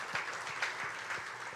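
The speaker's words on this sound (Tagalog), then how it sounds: "the best na palakpak po ulit kay Lord." Congregation applauding during a Sunday church service, a steady patter of hand claps filling the room, moderately close, with no talk over it.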